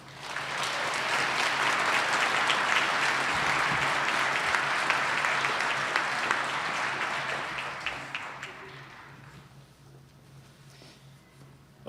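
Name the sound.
applause at a commencement ceremony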